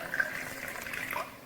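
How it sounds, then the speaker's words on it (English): Ninety millilitres of water pour into a glass beaker in a school chemistry demonstration, a brief steady trickle heard up close and fairly soft, with no one talking. "I am adding 90 ml of water"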